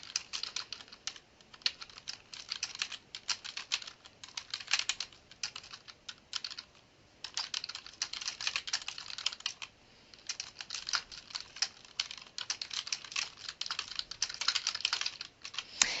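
Steady typing on a computer keyboard, with rapid, uneven runs of key clicks and brief pauses while a first paragraph is entered in a word processor; close and clear, no talking.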